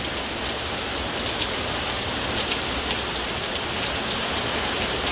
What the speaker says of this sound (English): it's raining like really heavy